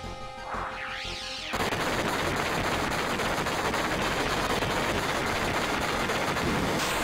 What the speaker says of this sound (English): Cid's final Limit Break is a missile barrage from the High Wind.